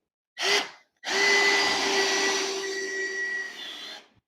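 A power drill drives a 2.5 inch screw into a wall during stud finder testing, with a short whir, a pause, then a sustained steady whine about three seconds long, close and loud.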